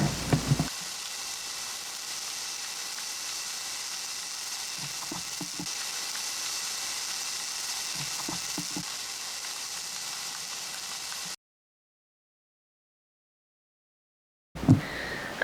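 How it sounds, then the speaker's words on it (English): Tofu and sofritos sauce sizzle steadily in a frying pan, a loud continuous crackle with occasional stirring clinks, broken by a few seconds of silence before the frying resumes briefly at the end. "we'll cook the sauce and the tofu together for 5 minutes"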